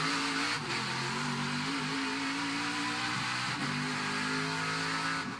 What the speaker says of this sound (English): You can hear the engine go quiet.